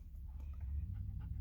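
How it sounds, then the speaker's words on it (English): Dog panting after a walk in the park, a quiet, steady run of soft breathy pants at close range with no talk over it. "He's panting. He wants to drink water."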